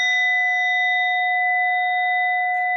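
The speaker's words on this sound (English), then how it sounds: "I just want to check that my bell is sounding well" Meditation bell struck once for an online sangha gathering, a clear sustained ring with several steady overtones that hold almost unchanged, close and alone.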